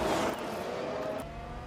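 F1 race cars on track in F1 Manager 22, a steady engine drone from a Red Bull passing along the straight, moderately distant and fading slightly as it goes by.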